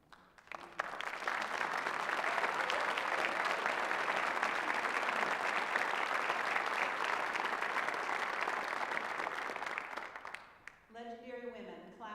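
Sustained audience applause for honored legendary women, a warriors school's class of 2025, steady and full for about ten seconds before fading as a voice begins speaking.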